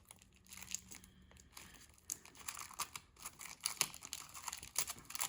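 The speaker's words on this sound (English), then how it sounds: "let's start ripping" Tissue paper ripped by hand crinkles and tears in quick, irregular bursts, close and fairly quiet, growing busier toward the end.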